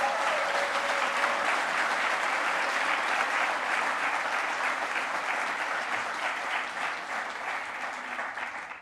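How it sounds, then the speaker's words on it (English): Graduates and their audience applaud inside an auditorium at a 2023 graduation ceremony. The clapping is dense and steady for about nine seconds, with no voices, and thins slightly toward the end. "Give yourselves a big round of applause."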